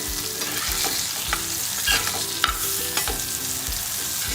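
Pieces of surmai (kingfish) frying in a pan as they are turned, giving a steady close sizzle throughout with periodic soft stirring and scraping knocks in an even rhythm, and no voice.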